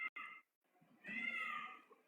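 A kitten meows close by in a quiet space, a short cry followed by a longer rising mew after a brief pause.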